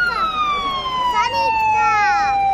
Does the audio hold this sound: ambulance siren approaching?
yes